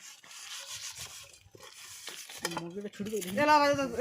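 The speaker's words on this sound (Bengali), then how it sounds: "এই দেখতে পাচ্ছ হাঁড়ি মাজা চলছে আমাদের" A cooking pot is scrubbed by hand at a forest picnic, with rhythmic rubbing and scraping strokes close up, while people talk over it.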